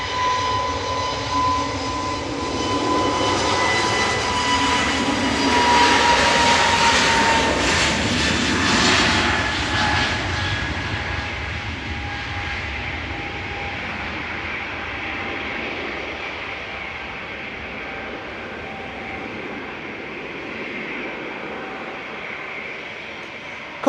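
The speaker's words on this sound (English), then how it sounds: "EasyJet to Geneva going now" An EasyJet airliner takes off from Manchester Airport, its engine roar swelling to a peak and then fading into a long, droning whine as it climbs away.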